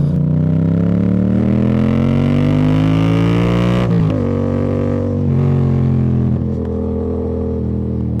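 Loud, close Yamaha MT-07 motorcycle with a Roadsitalia titanium exhaust climbing in pitch under acceleration on a damp, cold road, with a sharp shift around the midpoint, then pulling hard again.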